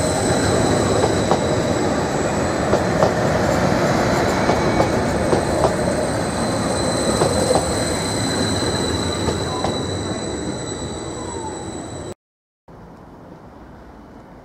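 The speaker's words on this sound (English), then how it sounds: "About to pass through now is intermodal service for Lima 28 en route from Peterborough North Yard to Felixstowe South Terminal." Intermodal freight train passing through Ely station on a route from Peterborough to Felixstowe, a loud steady rumble of wagons and wheels with faint squeal, continuous for about twelve seconds before cutting abruptly to quieter station ambience.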